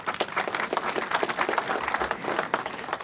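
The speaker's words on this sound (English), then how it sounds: "Let's give our chief guest a better clap." A crowd at a university graduation ceremony claps for the chief guest, loud, dense and sustained applause filling the whole moment.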